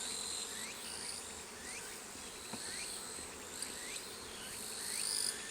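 Honeybees buzz around a hive in summer with a constant droning hum, single bees whining past now and then, and no voices.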